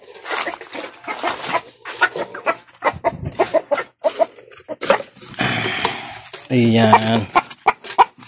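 Pet chickens clucking while being fed, intermittent clucks heard close among frequent talking by a man, with a louder burst of calls near the end.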